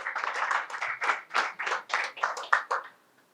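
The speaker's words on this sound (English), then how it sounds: "One more round of applause for the incoming MP." Rhythmic group clapping for an incoming member of parliament at a PNM 2020 political rally in Arima, about a dozen broad bursts in a steady beat before stopping abruptly, fairly close and without talk.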